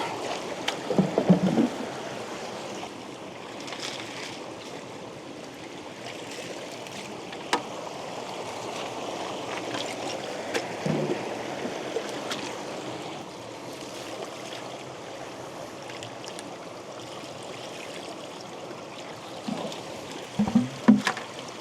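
Stream water rushing through a spring flood gold trap, a steady, moderate outdoor flow with faint splashes and occasional small knocks of rocks.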